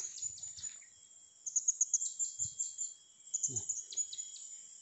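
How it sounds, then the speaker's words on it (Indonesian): Small birds chirp in short bright bursts across a quiet forest edge, mixed with a steady insect whine, while someone speaks briefly. "tapi masih ada yang berkicau nih"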